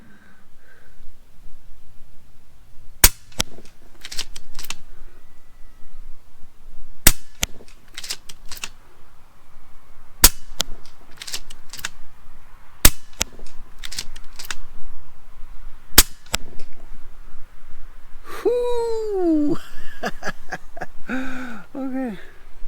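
An FX Impact M4 air rifle firing 13 grain slugs sounds as sharp, close cracks in quick clusters of several shots separated by pauses, with a chirpy whistling squeal near the end over quiet room tone.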